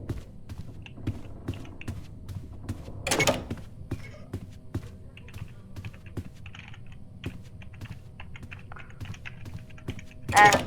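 Rapid, light computer keyboard clicks tap away steadily at close range during a game of Doors, with a couple of louder bumps and brief rustles breaking in.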